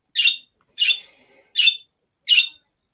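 Four sharp bird squawks spaced roughly evenly across three seconds, loud and close, with near silence between calls and no speech.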